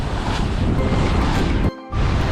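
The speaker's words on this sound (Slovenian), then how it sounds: "tukaj piha pa že do 30 vozlov" A strong wind of around 20 to 30 knots buffets a sailboat under way, a loud, dense roar of wind noise that cuts out for a moment near the end and then returns.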